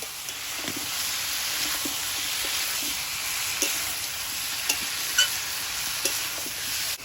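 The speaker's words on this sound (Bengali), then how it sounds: "এবারে নেড়ে ছেড়ে দিয়ে ভালো করে কষিয়ে নেব" Mutton masala with potatoes being fried and stirred in a pan, an even hissing sizzle throughout with scattered light scrapes and taps of the spatula, no speech.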